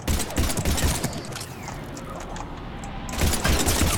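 Rapid bursts of gunfire shooting zombies in a video game, crackling clusters of shots at the start and end with a quieter stretch between.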